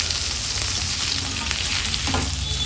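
Onion and capsicum frying in a pan for egg chilli, a dense, loud, unbroken sizzle with a low hum beneath and a faint stir toward the end.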